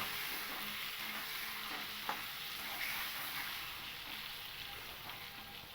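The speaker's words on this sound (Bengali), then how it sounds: "এবার আমি লবণ আর হলুদ দিয়ে পটলটাকে খুব ভালো করে ভেজে নেব" Pointed gourd (potol) frying with salt and turmeric makes a soft, continuous sizzling hiss in the pan, with a single faint clink from a utensil partway through.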